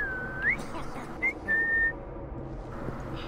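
A character whistles in Assassin's Creed Syndicate, a few short, clear whistled notes: a sliding rising call followed by two brief tones, heard alone over quiet ambient game noise.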